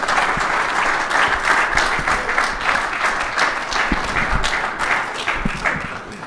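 An audience breaks into sustained applause, loud and dense clapping from many hands filling several seconds with no talk, the sound easing slightly toward the end.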